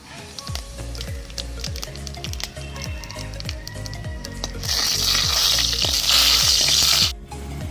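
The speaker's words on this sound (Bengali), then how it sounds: "তেল গরম হয়ে গেছে আমি এবার শুকনো লঙ্কা আর কিছুটা কালো জিরে দিয়ে দেবো" Dried red chillies and black cumin seeds frying in hot oil, a dense crackling sizzle over a rhythmic low thudding pulse, swelling into a louder spitting hiss near the end before cutting off abruptly.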